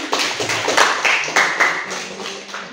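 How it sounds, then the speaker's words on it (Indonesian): A small class gives brief, scattered clapping, a handful of sharp claps spread over under three seconds with a few stronger hits, fairly close and moderately loud. "Baik, tepuk tangan."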